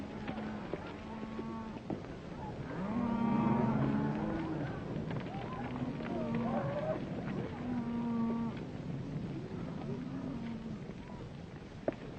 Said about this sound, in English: Joe, get those cattle watered down right away.